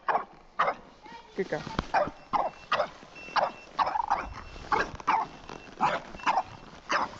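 A dog barks repeatedly at a horse rider on a path, sharp close barks in an irregular series with some yips and whimpers, while someone talks over the barking.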